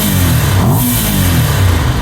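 Ducati 750 SS Supersport L-twin motorcycle engine revving up close and loud, with throaty induction noise rising and falling in quick blips.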